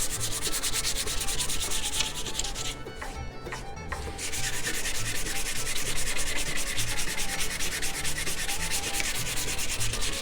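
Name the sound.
sanding varnish off a hatchet handle with sandpaper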